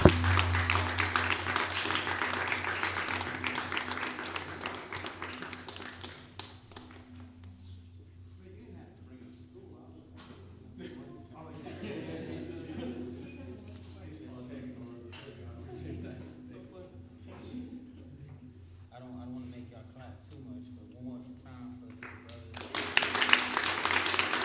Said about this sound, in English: Clap it out one more time and keep it clapping for Joel